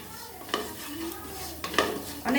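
Gobindobhog rice dry-frying in a pan, a soft steady hiss with three spatula strokes scraping and rattling the grains at close range.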